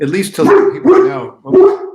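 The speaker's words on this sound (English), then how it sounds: "sorry, that's my dog." A pet dog barks a few short times indoors, loud and close, breaking in over someone talking during an interview.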